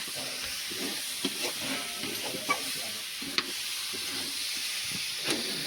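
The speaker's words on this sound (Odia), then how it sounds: "ଇଏ ଚାଲିଛି କୋବି ଆଳୁ ଭଜା।" Cabbage and potato fry in a pan, making a steady soft sizzle with repeated light clicks of a spatula stirring, close but fairly quiet.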